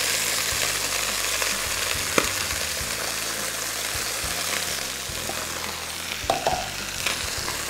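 Chopped shallot, garlic and tarragon sizzle in a hot pan, a steady bright frying crackle with a few soft stirring knocks, close and continuous, with no voices.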